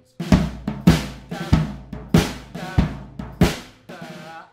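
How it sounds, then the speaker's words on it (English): A drum groove from a rock drum lesson, with sharp, evenly spaced hits and quieter snare ghost notes tucked between them, close and dry with no voice. "on the snare, we could maybe add a few sort of ghost notes."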